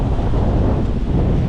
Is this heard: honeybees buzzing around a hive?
no